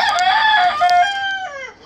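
A prized rooster from a poultry breeder gives one loud, close crow, a long drawn-out call that tails off at the end.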